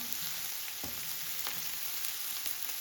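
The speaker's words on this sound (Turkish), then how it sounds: "Bunları güzelce bir kavuralım. böyle kavurursak daha güzel oluyor." Ingredients for Turkish chicken pilaf sizzle and fry steadily in a pan, a constant close hiss with a few faint stirring scrapes, and no voices.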